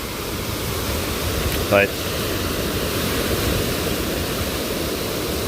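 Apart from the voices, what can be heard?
wind and choppy lake waves at Presque Isle beach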